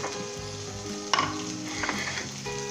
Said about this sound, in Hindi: और 1 मिनट के लिए हमने इसे मज़ीद फ्राई करना है